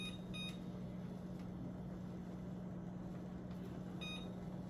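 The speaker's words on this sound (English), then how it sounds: "Okay, I'm just putting the timer on." Microwave oven timer being set while cooking spinach Alfredo, with a few short high beeps over a steady low humming drone from the appliance.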